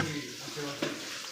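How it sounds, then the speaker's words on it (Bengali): Dried fish (shutki) frying with onion in a home kitchen, a steady close sizzle with light stirring scrapes and a faint voice in the background. "এই যে শুটকি মাছ রান্না করতেছে পেঁয়াজ দিয়ে ভুনা করতেছে"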